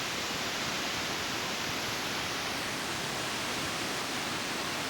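Agua Azul waterfall in Chiapas, Mexico, where the river splits and tumbles down in two directions, giving a dense, unbroken roar of rushing water with no voices.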